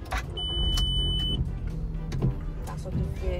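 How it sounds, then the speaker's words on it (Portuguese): A Volkswagen Golf engine hums and rises steadily as a learner releases the clutch, with a brief electronic beep early on and people talking inside the car. "Tem que sentir o motor enchendo."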